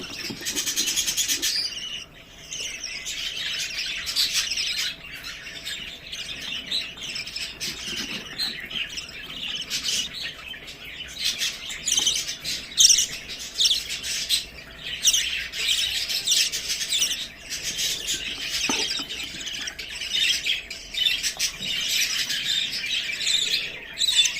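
Baby birds in a nest chirp and squawk continuously at close range, a busy, shrill chorus throughout with no speech.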